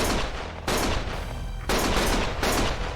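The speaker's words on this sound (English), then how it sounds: "Stop shooting!" Gunfire in the video game Lost Judgment, loud rapid bursts of shots in three dense volleys with brief breaks between them, close and harsh.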